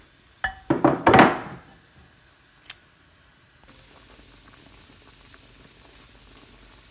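A pot of ackee clanks briefly on the stove, then a quiet, steady bubbling of boiling water carries on by itself.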